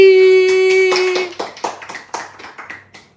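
A small group claps at a midnight anniversary celebration. The irregular, close hand claps start after a sustained musical tone and gradually thin out.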